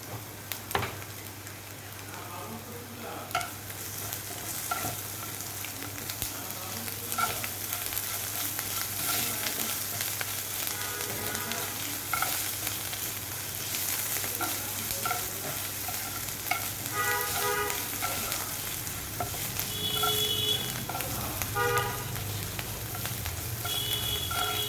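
Onions frying in a pan with sugar added, stirred from the bottom, a steady close sizzle with irregular scraping and clinking strokes throughout.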